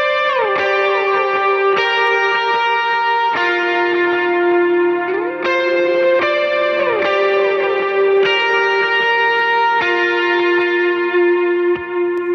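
Electric guitar lead riff played high on the neck through effects, with distortion, echo, chorus and reverb, sustained notes ringing over a steady wash of sound for the whole stretch, loud and alone without any voice.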